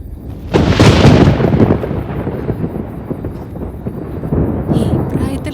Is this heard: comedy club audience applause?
no